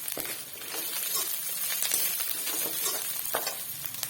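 Potatoes frying in a pan with onions that have already browned make a loud, continuous sizzle with occasional stirring crackles throughout, and no one speaks.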